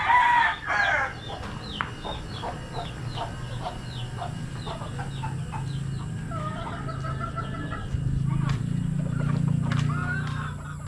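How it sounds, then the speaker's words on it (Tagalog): Chickens and chicks on a rural farm cluck and cheep nearby, with a rooster's crow near the start and steady low background noise throughout. "Mga sisiw."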